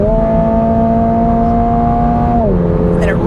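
A 2022 Toyota GR86 engine revs hard in sport mode, a loud steady high-pitched note held near the top of the rev range that then drops sharply as the revs fall, heard from inside the car.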